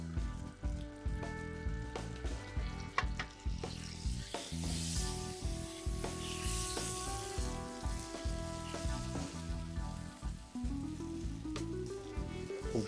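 Butter melts into caramel in a pan for crêpes flambées, bubbling with a close, busy sizzle while repeated scraping stirs and knocks against the pan sound throughout.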